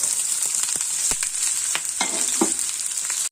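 Tomato sautés in a hot pan with a constant close sizzle, broken by brief scraping and stirring clicks from a spoon, and no voices.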